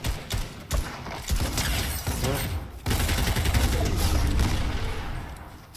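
Gunfire in the Fortnite video game, rapid bursts of shots crackling continuously at close range with busy game noise underneath, no speech heard.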